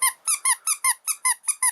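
A squeaky otter toy is squeezed repeatedly, giving nine sharp, high squeaks in a steady rapid rhythm, close and loud with silence between each.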